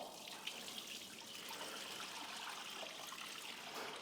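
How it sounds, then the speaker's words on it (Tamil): Wheat milk for halwa is poured through a filter, giving a continuous soft trickle and splash of liquid throughout, fairly quiet and with no voices. "ஸோ இப்போ இந்த பாலை நம்ம வந்து ஃபில்டர் பண்ண போகிறோம்"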